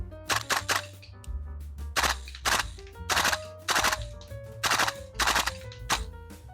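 Repeated sharp gunfire cracks from a VFC Colt M16A2 airsoft gas blowback rifle with its stock zinc bolt, fired in quick bursts of two to three shots with short pauses between. The shots are close and loud, with a mechanical clack behind each one.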